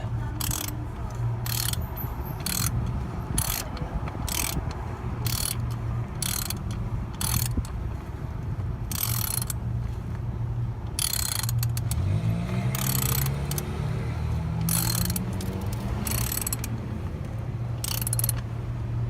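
Bolts being snugged down on the oil separator of a Volvo 740, with repeated ratchet clicking and metallic tool clatter in bursts over a steady engine-bay hum, close by with no talk.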